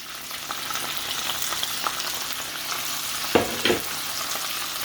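Spices fry in ginger garlic paste for dhaba-style aloo gobi, a soft steady sizzle with light stirring scrapes and a couple of sharper spatula knocks near the end, no talking.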